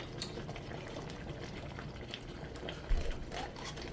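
A pot simmers and bubbles continuously at low volume as tomato paste is stirred in, with one short clunk near the middle and no speech.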